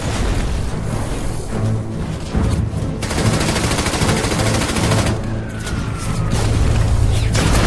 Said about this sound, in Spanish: Los hombres dispararon y lanzaron granadas mientras corrían.